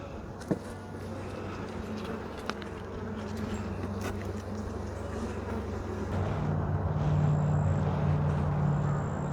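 Honey bees buzz in a dense, steady drone from an opened hive during a queen check in an apiary, close and continuous, with a few light knocks of equipment and no talking.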